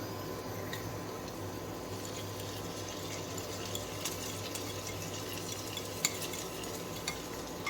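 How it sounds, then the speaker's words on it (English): Paneer cooking with softened tomatoes in a pan for paneer bhurji, a soft continuous sizzle with faint squishy stirring and occasional light clicks, close but quiet. "The tomatoes are well cooked now, so I'm going to add the paneer."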